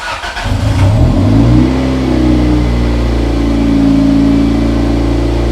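A car engine starts up close by, revs briefly, then settles into a loud, steady running idle.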